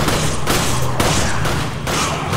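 Rapid gunfire in the video game Resident Evil 5, repeated bursts of shots at close range with about four sharp volleys spread over a couple of seconds.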